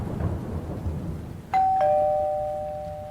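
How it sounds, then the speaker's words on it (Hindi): A doorbell rings twice in quick succession, bright sustained chimes ringing out clearly over a soft rumble of rain and distant thunder in a house at night. "कुछ देर बाद दरवाजे की घंटी फिर बजी।"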